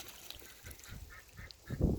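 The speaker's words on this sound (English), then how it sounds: "There are the ducks and geese." Ducks and geese on a farm pond with goslings swimming: scattered faint honks and quacks at a moderate distance, ending in a louder burst of low splashing or dabbling noise, with no talking.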